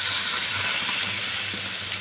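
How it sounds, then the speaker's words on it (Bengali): Hot water is poured into a wok of frying spices after pangasius fish has been fried, giving a brief, steady steamy hiss and sizzle that eases slightly toward the end, with no talking. "এখন আমি একটু গরম পানি দিয়ে দেব।"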